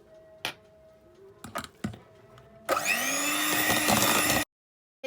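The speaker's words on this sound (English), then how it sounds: "And now we're going to mix that really well." Chocolate cake batter with chocolate extract is mixed in. A few sharp clicks and knocks come first, then a loud, steady whirring burst runs for nearly two seconds and stops abruptly.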